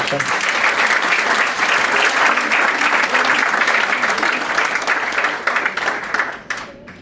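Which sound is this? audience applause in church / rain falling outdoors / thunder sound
audience applause in church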